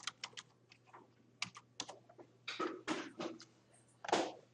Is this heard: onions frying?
no